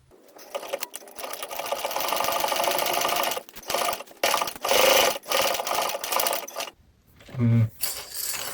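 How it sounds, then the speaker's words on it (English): A home sewing machine runs in bursts as seams are stitched, a fast close mechanical whir that stops and restarts several times, with a brief clink and rattle near the end. "we're going to sew the 3 sides here"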